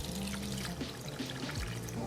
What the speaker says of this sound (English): Add your water like so.